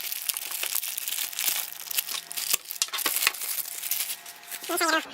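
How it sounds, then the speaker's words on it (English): A small 1byone Wireless N 300 Mbps router is pulled from a plastic bag, with continuous crinkling and rustling of plastic, sharp clicks and taps, and a short voice near the end. "Let's go ahead and get it out of this plastic bag."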